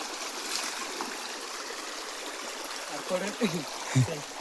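A village river running low after a dry spell flows with a steady, close rushing and trickling wash, with a few brief voice sounds near the end.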